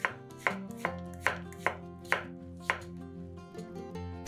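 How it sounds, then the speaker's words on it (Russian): A knife chops zucchini lengthwise into quarters on a board, several crisp, evenly spaced cuts close up, with soft background music underneath. "каждую половинку кабачка разрезаем еще раз вдоль пополам и нарезаем четвертинками."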